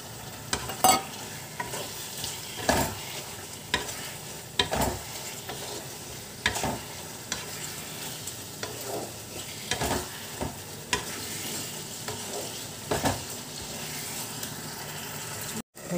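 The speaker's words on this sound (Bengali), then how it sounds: "একটু ছোট্ট কিছু মানে ছোটো সয়াবিন দিয়ে দেবো" Kochu data shak, taro stems, being stirred and fried in a pan with small soya chunks, with a steady soft sizzle and repeated scraping stirs at irregular intervals, fairly quiet with no talking.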